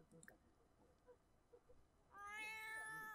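A cat in The Sims 4 game gives a drawn-out, loud meow in the last second, after a stretch of soft, faint background sounds and small clicks.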